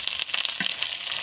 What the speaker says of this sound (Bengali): একটু সাউন্ড হচ্ছে কারণ পেঁয়াজটা মনে হয় বেশি ভাজা হয়ে গেছে।